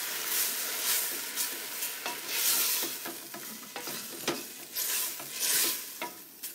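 A spoon stirs sauce through cabbage and onion in a pan for stuffed cabbage, making a busy, close scraping and bubbling sizzle that swells and eases in waves, with no one speaking.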